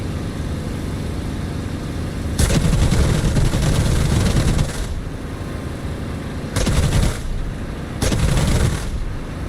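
Aircraft machine guns fire in DCS World, the flight sim, heard as three loud broadband bursts over a steady engine drone, the first lasting over two seconds and two shorter ones following.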